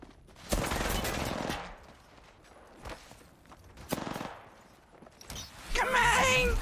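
Gunfire from a player shooting in a video game: rapid bursts of shots, one loud volley early on, then shorter cracks and a dense final flurry, all close and punchy with quiet gaps between.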